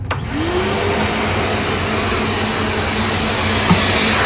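A DEWALT 5-gallon STEALTHSONIC 4 HP wet/dry shop vacuum starts up with a brief rising whine, then runs with a steady, loud whoosh and hum close by, a small knock near the end.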